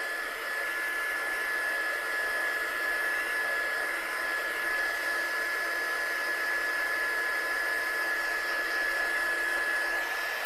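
A hair dryer or heat tool blows steadily and loudly over watercolour ink splats on a handmade card, a continuous whooshing hiss with a faint whine that holds for the whole stretch with no talking.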